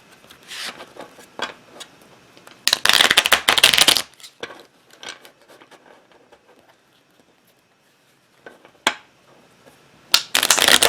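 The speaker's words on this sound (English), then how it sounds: "Actually, I'm going to do another shuffle." Tarot cards being shuffled by hand in irregular bursts, crisp riffling and patting flurries with quiet gaps between, close and fairly loud, no voices.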